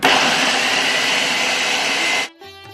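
A kitchen blender grinds carrot, onion, cucumber, tomato and green chilli with a loud, steady high-pitched whirring roar for about two seconds, then cuts off abruptly, leaving a brief tonal beep-like ring.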